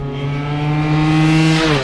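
A Stella LML Vespa PX 150 scooter bored to a Malossi 221cc kit, with a 2463 primary and short fourth gear, accelerates hard on a track: one continuous rising engine whine, loud and close, with no talking.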